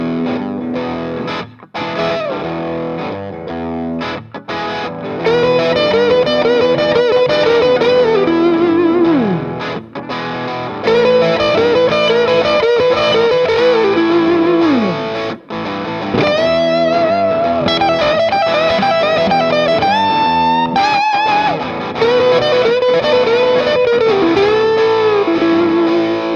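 Distorted electric guitar plays a repetition lick, a short bent phrase looped over and over in bursts with brief gaps between runs, loud and close with effects coloring the tone, no talking.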